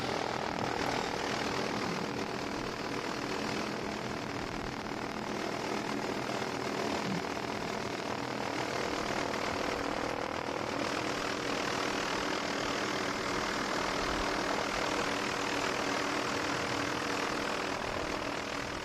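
The Team Velocity racing powerboat's engine roars steadily and loudly throughout, a continuous drone during a Brackets 500 race at the Clearwater Nationals in Clearwater, Florida.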